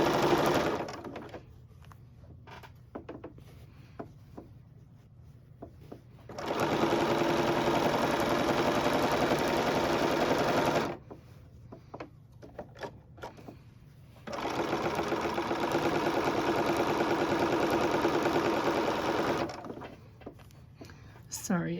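A sewing machine stitches binding onto a quilt in two long, steady runs of fast mechanical whirring, with quiet pauses and faint handling noises between them; a person talks softly during the gaps.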